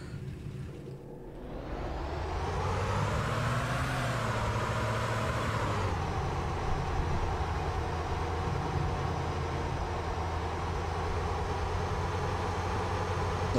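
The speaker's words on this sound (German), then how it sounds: "Oh, schon wieder ein Auto gespawnt." A car in the survival video game DayZ drives along a road: a steady, loud engine drone that rises in pitch around the fourth second, then settles into a constant hum with no voices.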